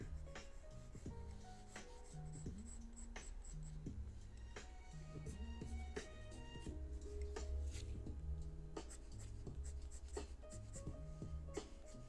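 Pencil drawing on paper, with close, quiet scratchy strokes and rubbing in a steady back-and-forth rhythm, faint tonal background sounds underneath.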